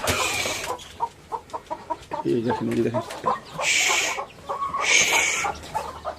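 Chickens cluck in short repeated bursts close by in a yard where hens run about among their chicks, with two louder squawking calls standing out as someone talks over them.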